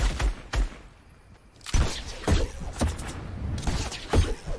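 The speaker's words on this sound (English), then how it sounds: "Where's he shooting from?" Gunfire in the Fortnite video game comes in sharp, loud bursts and single cracks, with a quieter gap followed by rapid clustered shots and a steady background rumble.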